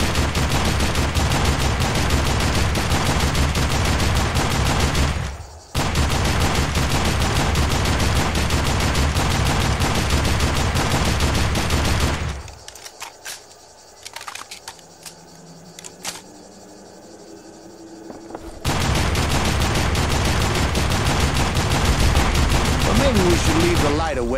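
Weapon fire in the Call of Juarez: The Cartel shooter game, dense rapid automatic bursts filling the sound, broken by a brief gap and a quieter stretch of scattered sharp clicks before the heavy firing resumes.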